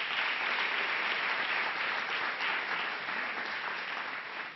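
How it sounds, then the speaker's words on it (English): A crowd at a Columbus city neighborhood meeting on public safety gives a sustained round of applause, an even, hissing roar of many hands heard from within the hall, with no talking. "Please give them a round of applause."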